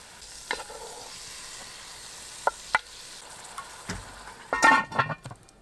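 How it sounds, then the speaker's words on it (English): Ground meat with taco seasoning sizzles as it browns in a pan at a campsite, a steady soft frying hiss broken by scattered clicks and sharp scraping stirs, louder toward the end. "while I'm letting that meat brown"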